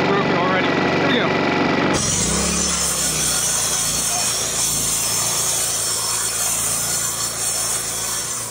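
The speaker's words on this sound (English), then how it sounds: "Circular saw." A circular saw whining loudly and continuously as it grinds through ice, harsh and close, with a shift in pitch after a couple of seconds.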